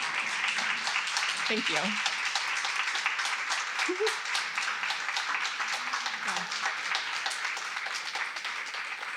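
An audience applauds steadily at a talk, sustained dense clapping throughout, while a voice briefly speaks over it near the start.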